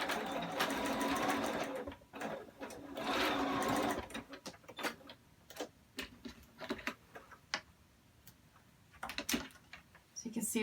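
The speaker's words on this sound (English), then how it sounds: "So I'm going to back stitch over my elastic." A sewing machine back stitches over elastic on a fabric face mask, rapid close mechanical stitching in two loud bursts followed by scattered clicks and ticks, with a voice talking intermittently.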